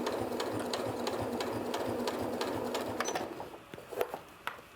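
A Janome sewing machine top stitches along the edge of a fabric face mask, humming with a steady, rapid needle rhythm close by, then slowing and stopping into a few separate clicks.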